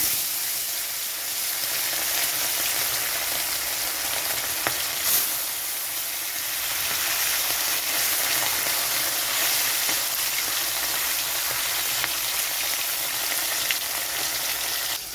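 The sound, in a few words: bhola fish frying in hot mustard oil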